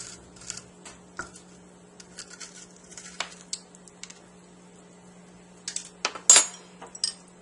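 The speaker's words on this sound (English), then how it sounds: "between the small sharp knife, the fork, and the spoon, you can get all this stringy stuff out" A small sharp knife, a fork and a spoon scrape stringy strands from a roasted spaghetti squash, making light, sparse clinks and soft scrapes, with a sharper metallic clatter near the end.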